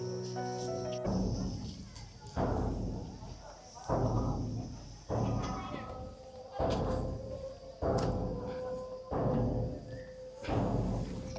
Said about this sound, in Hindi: आपको एक बैकग्राउंड में ड्रम की आवाज़ सुनाई पड़ रही होगी।